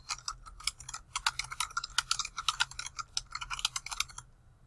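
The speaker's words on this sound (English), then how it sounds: "we are now going to type the title of our paper in all caps" Fingers type on a computer keyboard in quick, irregular bursts of close, crisp key clicks, pausing briefly before the sound stops near the end.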